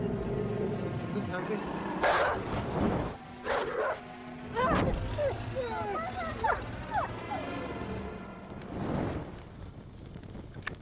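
A dog whimpers and yips in a horror film scene, with high whining cries and short yelps coming in bursts over several seconds. People talk around it.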